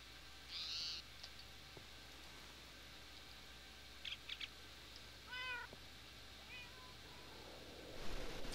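Cats meow in Minecraft with the Tekkit modpack, several short, faint cries spaced apart over a quiet background hum, with no speech.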